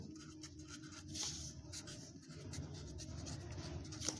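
A pen scratches across paper as numerals are written by hand, soft close-up strokes in short irregular bursts, quiet and alone with no talking.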